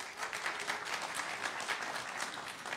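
An audience at a lecture-debate on Polish society after the Second World War claps steadily, a dense, even patter of many hands filling the room without pause.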